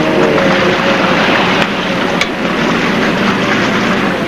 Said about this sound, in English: Our speedboat tore across the sea, chewing up the remaining distance.